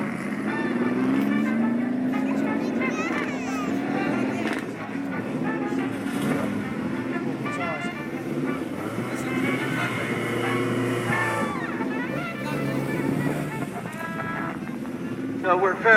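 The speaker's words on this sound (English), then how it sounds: "Beautiful classic Ferrari of the early 1950s." Front-engine V12 Ferrari 212 F1 classic race car from the early 1950s running on a circuit, a steady engine drone heard over strong wind buffeting, with someone talking throughout.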